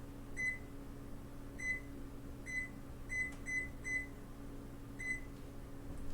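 Short electronic beeps from a kitchen timer being set, about seven separate bright tones spaced unevenly over a few seconds, each clear above a steady low room hum.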